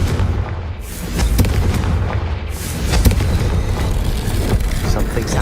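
A Confringo fire spell explodes in the video game Hogwarts Legacy, a loud booming blast with crackling debris over a dense, continuous game soundscape, followed by further rumbling impacts.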